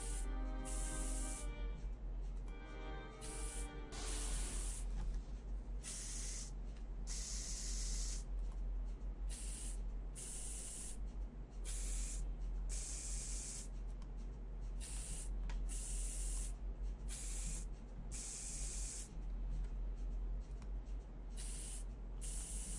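Cleaning spray hisses in the game Space Station 13, many short loud bursts repeating in an even rhythm over a steady background hum, with no talking.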